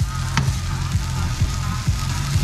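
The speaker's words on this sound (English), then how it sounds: "We've got the meat on the pan, cooking her up real good" Meat sizzles in a frying pan at dinner time, a steady close hiss and crackle with a low hum running underneath.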